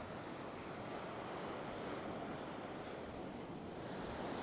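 Steady wind rushes and buffets across an open beach during surf fishing, with ocean surf washing continuously underneath; the roar stays broad and even throughout, with no voices.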